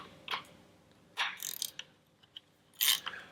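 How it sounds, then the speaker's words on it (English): A few separate clicks and metallic clinks with ratcheting bursts sound as ignition coils come off a 2-stroke outboard engine during head gasket work, near and fairly quiet, with silent gaps between them. "I'm just going to take these two ignition coils off too."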